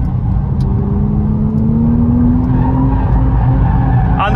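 A performance car, either an Audi RS5 or a BMW M5 G99, pushes wide through a corner with a loud, sustained tire squeal and a rising tonal whine over heavy engine and road rumble.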